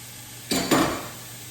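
Ground beef, 1.5 pounds, drops into a dry skillet on medium-high heat with no oil, giving a sudden two-part hiss and clatter that quickly fades back to quiet.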